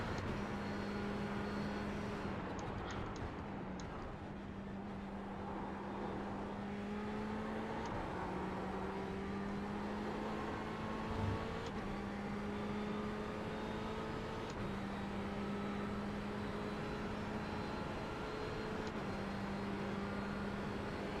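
Steady droning GTE race car engines from the racing game iRacing at Monza, a sustained hum with slowly shifting pitch, continuous and even throughout, no voices.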